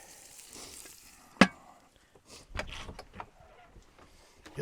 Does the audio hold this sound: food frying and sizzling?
yes